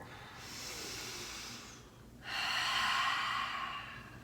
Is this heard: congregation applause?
no